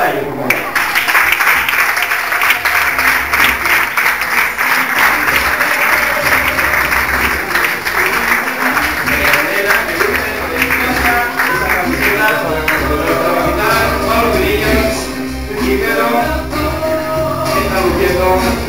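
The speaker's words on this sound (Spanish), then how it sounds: "¡Fuerte aplauso!" Sustained crowd applause greeting the unveiling of a football team's first kit, loud and steady for the whole stretch, with voices and cheering mixed into it.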